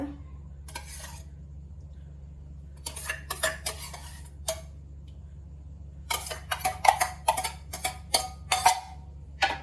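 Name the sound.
mixing yogurt layered over paneer in a dish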